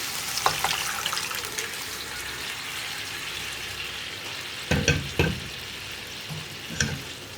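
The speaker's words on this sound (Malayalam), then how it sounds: "ഇതിലേക്ക് നമ്മൾ വേവിച്ച് വെച്ചിരിക്കുന്ന ഗ്രീൻ പീസ് ചേർത്ത് കൊടുക്കുക" Cooked green peas go into a sizzling Kerala-style curry and get stirred, giving a steady hiss of frying broken by a few sharp clatters of the spoon against the pan.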